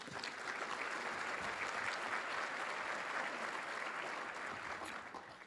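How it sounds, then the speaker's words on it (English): Sustained round of applause from an audience at an economic forecast keynote breakfast, dense and steady at moderate distance, holding for several seconds before easing slightly at the end. "And how about a round of applause for the Columbian for putting this on?"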